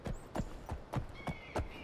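Horse hooves clip-clop in Skyrim Elysium Remastered, five or six evenly spaced hoof strikes at a walking pace, fairly close and moderately quiet, with no voices over them.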